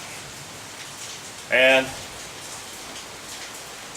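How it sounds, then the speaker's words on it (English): Steady rain falls outside a garage at night, a constant soft hiss with faint patter throughout, briefly interrupted by a short spoken word. "It's kind of raining."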